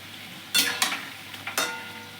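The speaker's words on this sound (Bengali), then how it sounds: "লাল লাল করে বড়াগুলো ভেজে নিয়ে এবার তুলে নেব।" Bengali palm fruit fritters, taler bora, frying in oil with a quiet close sizzle and a few sudden scraping stirs as they are turned.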